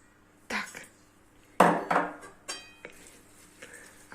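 Kale salad with lemon juice and crushed pumpkin seeds being mixed in a bowl, a few separate clattering knocks and scrapes of the utensil against the dish, close and intermittent.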